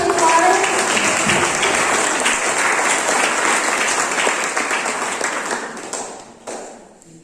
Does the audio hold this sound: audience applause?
yes